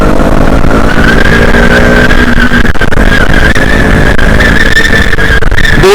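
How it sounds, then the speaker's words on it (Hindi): A KTM Duke 200 BS4 motorcycle engine revs hard and continuously, a loud, sustained buzzing note that climbs and dips, recorded close with no talking. "You are just going to rev this engine."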